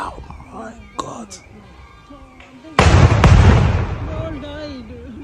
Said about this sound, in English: that's the canisters popping off, man.